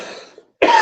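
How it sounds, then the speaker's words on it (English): A single throat clearing, loud and close, comes after a fading tail of room sound and a short pause, a brief harsh burst that ends the clip abruptly. "excuse me, I clear my throat."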